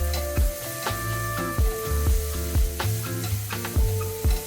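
Onion frying in a pan, a steady close sizzle broken by regular stirring knocks and scrapes of a utensil, with no talking.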